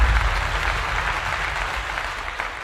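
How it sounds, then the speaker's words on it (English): Crowd clapping during a college football broadcast featuring Deion Sanders' team, a steady dense applause that holds at a fairly even level throughout with no voices standing out. "Let's give that a clap."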